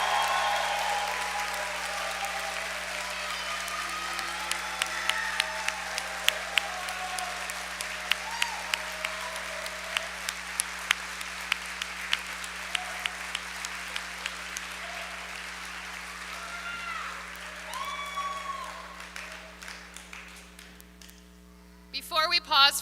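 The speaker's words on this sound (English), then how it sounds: "Let's give the first half of our graduates one more round of applause." An audience of families in a school gym applauds graduates at a 2022 graduation ceremony, sustained clapping with a few sharper individual claps standing out, a faint mains hum underneath, and the applause fading toward the end.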